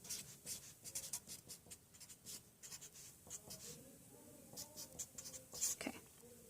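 Chemical equations being written by hand, probably with a marker or pen, a close, rapid run of short scratchy strokes and taps that come in uneven bursts throughout.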